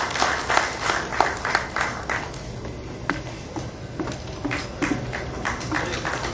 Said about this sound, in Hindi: और ये रस्म मैं हर बार यही कहूंगी कि जोरदार तालियों के बीच हो तो बहुत खूब लगती है।